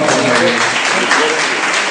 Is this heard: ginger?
no